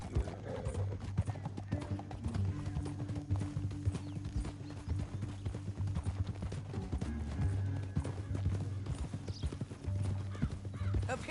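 Horses trot in Red Dead Redemption 2, a continuous rhythmic clip-clop of hooves on a canyon trail with occasional snorts and a whinny, and a low steady rumble beneath.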